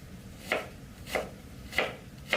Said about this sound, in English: Slicing them into juliennes.